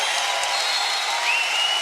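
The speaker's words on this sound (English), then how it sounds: "The crowd loves it." A basketball crowd at a women's college tournament game, Boise State versus Oregon State, applauds and cheers in a steady, dense wash of clapping that stays loud throughout.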